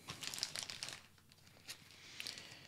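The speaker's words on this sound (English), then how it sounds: "take the bag off. Grab those scissors. Go ahead, cut out that hole." Scissors snipping and crinkling through a thin plastic bag while making a homemade camera rain cover, a quick run of crisp rustles and cuts close up, pausing midway, then a few more crinkles.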